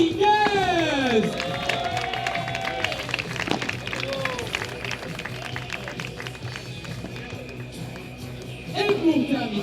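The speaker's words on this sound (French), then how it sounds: "Vous allez faire un tonnerre d'applaudissements pour Monsieur Facundo Dominguez." A crowd at the FIP Silver Champ Fleuri padel tournament applauds and cheers a player introduction. Loud, dense clapping mixes with whistles and shouts, fading slightly mid-way and swelling again near the end.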